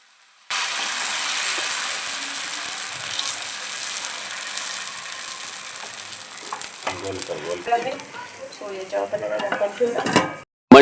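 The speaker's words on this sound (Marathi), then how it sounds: "त्याच्यानंतर आता उत्ताप्पा टाकलेला आहे तर बघूया उत्तप्पा कसा होतोय" Uttapam batter sizzles on an oiled pan, a steady close frying hiss that later turns busier with clattering, scraping bursts of utensils, ending in a sharp knock.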